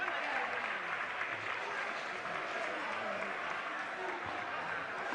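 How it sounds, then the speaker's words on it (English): An audience at a national secondary school science and maths quiz final applauds as a speaker comes to the stage, a steady, even wash of clapping that stays moderately soft and fairly distant throughout. "Shall we please receive a round of applause as she comes to the stage?"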